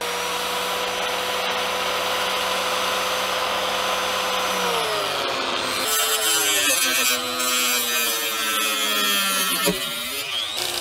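A steady angle grinder motor whine runs for several seconds, then turns into a loud, harsh grinding roar whose pitch dips and wavers as the blade bites into a tyre's steel-reinforced bead.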